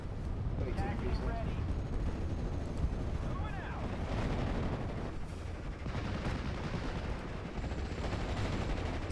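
Repeated mortar fire in Steel Division: Normandy 44, a dense run of distant thumps and crackling blasts over a constant battlefield rumble, with a voice speaking partway through.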